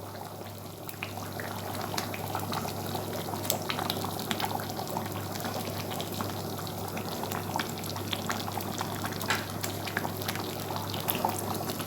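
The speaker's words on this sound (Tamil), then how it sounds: "மீன் போட்டு நல்லா கொதி வந்துடுச்சு." Fish curry with mango simmers in a pot, giving a steady low bubbling with soft pops and crackles throughout. The sound is even and close, with no talking.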